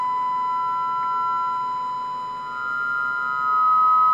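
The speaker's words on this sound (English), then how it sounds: "you could hear a tone coming out of the speaker" A steady 1500 hertz tone plays from a radio speaker while the transmitter is keyed, a pure, continuous electronic whine that stays level for the whole clip and swells slightly toward the end.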